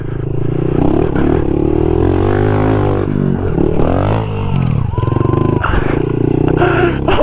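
A pit bike engine revs hard and close during a dirt jump on rough ground, its loud buzzing pitch climbing and dropping as the throttle opens and eases off.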